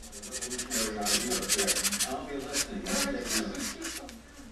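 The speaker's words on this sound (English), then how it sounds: "to do the sanding on the knives. You want to get rid of all the burrs." Moulding knives are hand-sanded to remove burrs, making rapid rhythmic rasping strokes close by, with a voice talking over the scraping.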